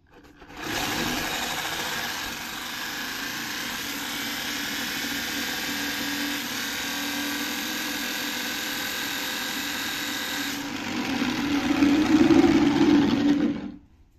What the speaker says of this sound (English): with a fully charged battery, the robot was set down and throttled up